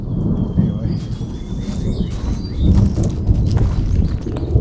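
Thunder from a storm over a rural home place, a steady low rumble that swells and rolls throughout with faint chirping and light rain-like noise above it.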